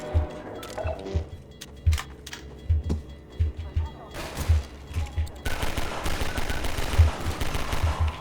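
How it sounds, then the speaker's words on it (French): Submachine gun fire in the Half-Life 2 Episode 1 video game: repeated short bursts of shots in an uneven rhythm, growing denser and more continuous toward the end, mixed with game noise and a voice talking. "C'est une mitraillette mon pistolet."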